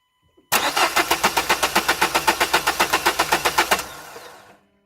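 Car engine being cranked after work on a Delphi injection pump: a rapid, even train of loud starter-motor strokes for about three seconds, then a brief fading run-on as it stops, with no voices.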